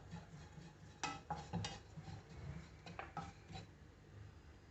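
Coconut and dry fruit being stirred in a pan over a medium flame, quiet scraping and clinks of the spoon against metal at irregular intervals, with no talking.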